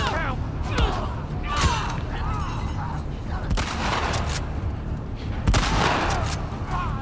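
Rapid gunfire in The Last of Us Part 2 pops repeatedly in irregular bursts amid chaotic combat noise, with voices shouting over the shooting throughout.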